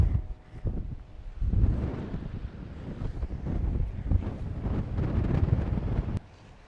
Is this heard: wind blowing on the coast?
yes